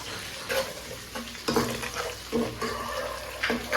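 Vegetables sautéing in a pan at home, a steady sizzle and fry broken by several scraping stirs of the spoon, close and moderately loud with no talking.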